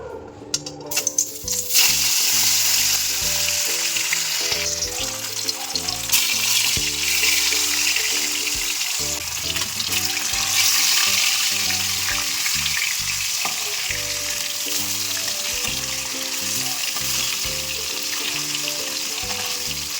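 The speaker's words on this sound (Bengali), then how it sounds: "আমি মাছটা ভেজে নেব এদিকে মাছ ভাজার জন্য কড়াইটা বসিয়ে দিলাম" Fish frying in hot oil in a wok, a loud continuous sizzle and crackle that keeps going throughout, with occasional clatters of stirring and no one talking.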